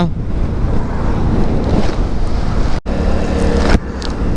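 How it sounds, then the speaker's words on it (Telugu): Strong wind roars against a 100cc motorbike riding on a mountain road from Manali toward Ladakh, a continuous loud buffeting rush over the microphone with a brief dropout near the end. "గాలి బైక్ను ముందుకు పోనీయడం లేదు"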